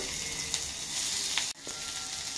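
Vegetable stuffing of green chilies, carrot, capsicum and onion sizzling in about two spoons of hot oil for egg rolls. A continuous soft crackle runs throughout, broken by a brief clatter of stirring.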